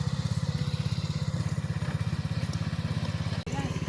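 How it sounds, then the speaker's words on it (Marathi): Tractor engine ploughing a farm field, a steady rhythmic diesel chug with fast regular pulses running loud and close throughout, broken by one brief dropout near the end. "तर ट्रॅक्टरने सर्व नांगरतोय त्यामुळे लवकर पण होतंय"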